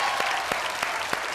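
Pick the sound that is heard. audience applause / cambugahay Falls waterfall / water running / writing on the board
audience applause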